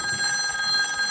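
A telephone rings steadily in a short film scene, a bright, sustained electronic ring that fills the brief moment on its own, with no voices.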